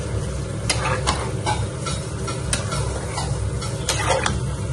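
Potato and cauliflower curry in a pan hisses and sizzles steadily after water is poured in, with a few sharp crackles and stirring clatters over a continuous frying hiss, close and fairly loud.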